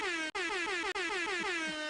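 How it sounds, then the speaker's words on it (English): A loud, blaring air horn effect with a harmonic-rich tone, cut by two very brief dropouts and otherwise held steady, with no voices over it. "have an air horn."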